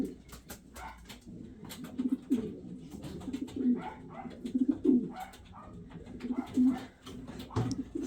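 Several pigeons coo softly in low, repeated throaty calls, with light rustling and scattered clicks around them at moderate distance.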